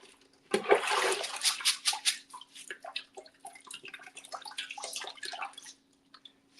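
Water splashes and rinses rice-like food in a pot at the sink, soft close sloshing and dripping over a low steady hum for several seconds.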